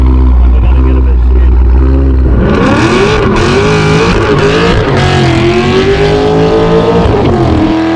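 A slammed VF Commodore roars through a loud, sustained burnout, its engine climbing from idle into hard, continuous revving with wailing, fluctuating pitch and screeching tyres, close and steady for several seconds.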